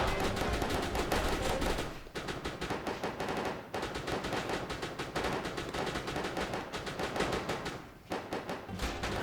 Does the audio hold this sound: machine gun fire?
yes